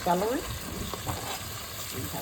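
Celery, thyme and cilantro sizzle steadily in a hot pot for a Jamaican chicken curry, a loud continuous frying hiss with stirring clatter.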